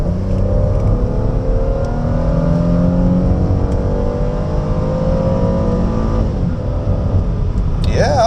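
A Jaguar X-Type 2.5 V6 SE estate accelerating in sport mode, its engine drone climbing steadily in pitch from inside the cabin and staying loud throughout.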